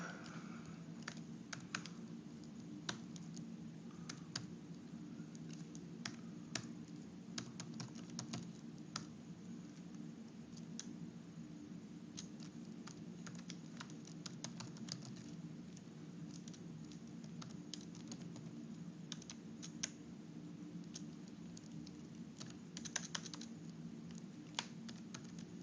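Steady typing on a computer keyboard while logging in, soft irregular key clicks pattering continuously at close range throughout, with no talking.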